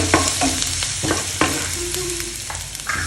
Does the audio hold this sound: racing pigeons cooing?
no